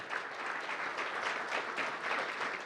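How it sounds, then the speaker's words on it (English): Crowd at a Chuckwalla National Monument campaign launch applauds in honour of an absent Chemehuevi Nation elder, a sustained, evenly textured round of many hands clapping, somewhat distant, with no voices over it. "I would like to give him a round of applause."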